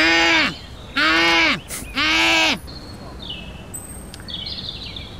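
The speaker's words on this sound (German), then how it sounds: "so klingt eine Saatkrähe. Lateinisch Corvus frugilegus." A rook (Corvus frugilegus) in the TKKG video game gives three loud, harsh caws in quick succession, followed by quieter ambient game sounds with faint high chirps.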